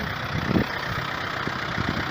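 Tractor with wide 30 to 35 cm wheels ploughing wet autumn ground in a raised second gear, its engine a loud, steady, close diesel drone that runs without a break.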